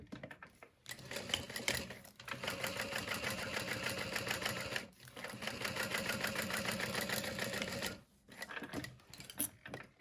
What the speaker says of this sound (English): And you're just gonna sew all the way down.